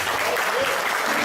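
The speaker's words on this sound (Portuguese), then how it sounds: "Vamos aplaudir ao Senhor." A church congregation applauding after a sermon: dense, steady clapping from many hands filling the whole moment, close and loud, with no pause.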